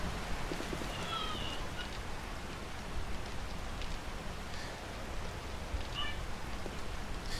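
Steady rain from inside a building in the zombie survival game 7 Days to Die, Alpha 16: a soft, continuous patter with no breaks, muted and fairly faint.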